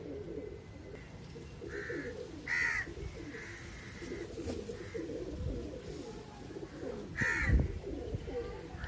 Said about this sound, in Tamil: அதனால் எல்லா புறாவும் விட்டாச்சு.